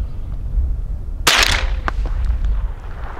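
A single sharp, loud shot from a Henry AR-7 survival rifle firing CCI rounds cracks out close by over steady background noise, followed by faint ringing.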